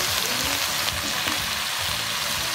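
Fresh pako fern greens frying and being stirred in a pan, a loud continuous sizzle with clinks and scrapes from the stirring, close and steady with no talk.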